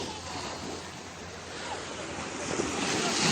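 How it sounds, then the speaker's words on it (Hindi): Sea waves wash onto a beach in Abu Dhabi in a steady, broad roar of surf that swells slightly toward the end, with wind noise on the microphone and no clear talking. "लहरें पानी की देखो,"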